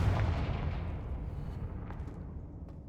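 The Confringo blasting spell in the video game Hogwarts Legacy goes off as a deep booming explosion that rumbles and slowly fades over a few seconds.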